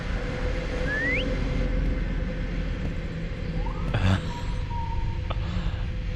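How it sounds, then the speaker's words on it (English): Enemies whistling in a brigand-themed video game: a couple of short rising and level whistle tones drift over steady background rumble, with a faint thump midway and no talk. "Someone's whistling."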